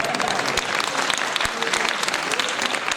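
A festival audience at a Holi celebration event bursts into dense, steady applause that runs unbroken for the whole three seconds.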